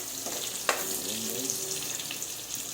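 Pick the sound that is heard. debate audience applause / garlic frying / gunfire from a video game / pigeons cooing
garlic frying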